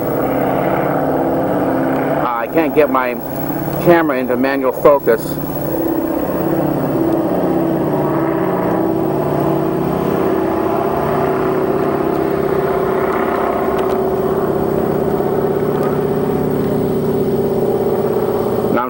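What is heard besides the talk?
airplane circling in the sky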